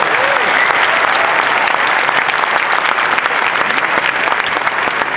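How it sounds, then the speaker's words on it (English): Audience applause at an ACN rally, loud, dense and continuous clapping from a large crowd that keeps a steady level throughout. "Let's give ACN a round of applause"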